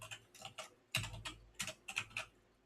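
Quick, irregular typing on a computer keyboard, with clustered keystrokes and short pauses, close and fairly quiet, no voices.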